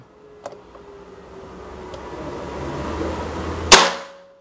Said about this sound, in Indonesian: Oke, tembakan kedua.